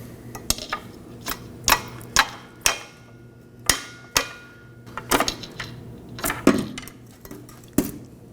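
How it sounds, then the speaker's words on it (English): Metal tool prying a drive shaft loose from the underbody of a 2018-2024 Chevrolet Equinox 1.5L, heard as a series of sharp, close metallic clicks and knocks at uneven intervals, some with short ringing tails, against quiet workshop background. "Now while holding the drive shaft up, I'm going to pry off the other side as well."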